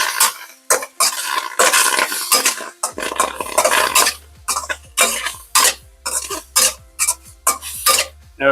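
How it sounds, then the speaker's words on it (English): Tofu tossed with chili black bean paste in a hot wok, loud sputtering bursts of sizzle in a rapid irregular rhythm, with a low burner rumble coming in partway through and clattering of the spatula against the wok. "It's just all that moisture hitting the hot wok."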